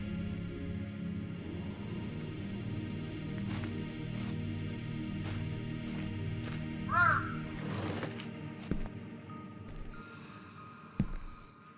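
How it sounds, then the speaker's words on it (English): Crows caw once in the dark game Atama, a brief harsh call midway through, set against a low rumbling ambience with scattered sharp clicks and knocks. "Birds"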